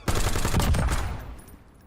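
A loud burst of rapid automatic gunfire in a video game, firing steadily for about a second and then trailing off into a fading echo, with no talking.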